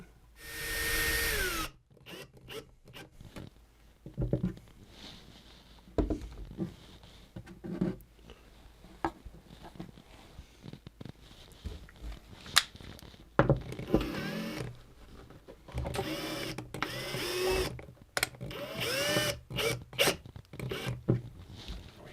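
Power drill driving screws while a guitar bridge is attached, short bursts of whirring motor with pauses and handling noises between, fairly close and moderately loud.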